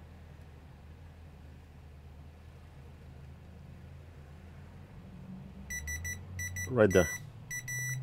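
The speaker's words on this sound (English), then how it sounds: "Meter in continuity mode, and let's see." Short high electronic beeps from a multimeter in continuity mode during electronics board repair, coming in several brief bursts near the end over quiet hum, with a voice speaking briefly.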